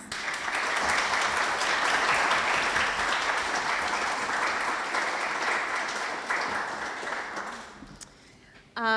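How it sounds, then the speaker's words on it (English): An audience at a housing organization's annual meeting gives a dense, sustained round of applause that stays loud for several seconds and then fades out near the end. "So please join me in giving Chris a round of applause."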